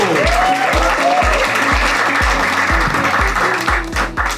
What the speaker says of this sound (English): Come on, start clapping, start clapping.